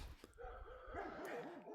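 Dogs bark and yip near the house of a small game farm along the Bulge River, faint and distant, a few short barks followed by rising and falling whining calls, with no one talking.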